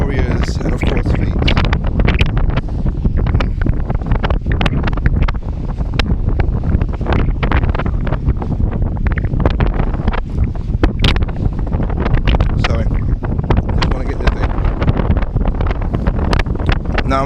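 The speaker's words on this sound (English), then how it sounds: "this is the north side of my island where it is windy" Steady, heavy wind buffets the microphone in a continuous roar on the windy north side of an island, with a dull rumble like distant surf underneath.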